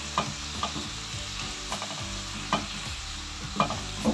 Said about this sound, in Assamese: এতিয়া মই এইখিনি ধুনীয়াকৈ লৰাই লওঁ